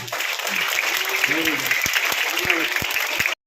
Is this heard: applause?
yes